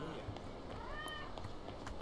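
A cat in the video game Yakuza 0 gives a short rising meow, fairly soft, over steady background noise and game sounds.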